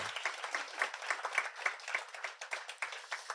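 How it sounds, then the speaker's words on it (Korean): Members of a church congregation at a Sunday service in Darmstadt applaud, a roomful of hands clapping in a lively, slightly pulsing rhythm that holds steady throughout, with no speech over it. "뜨거운 감사의 박수 한번 드렸으면 좋겠습니다"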